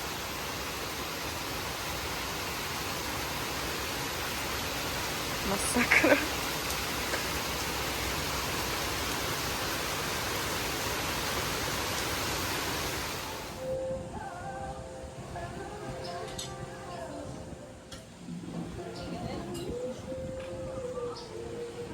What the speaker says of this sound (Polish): leje tak już od paru godzin